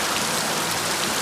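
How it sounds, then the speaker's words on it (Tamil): Heavy rain pours down in Nepal near farm fields, a steady, dense hiss of drops hitting the ground and surfaces, constant and close with no voices. "இப்போ பாருங்கள் எவ்வளோ மழை அடிக்குது."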